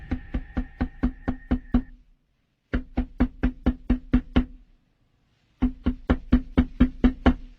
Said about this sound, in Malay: Bunyi ketukan.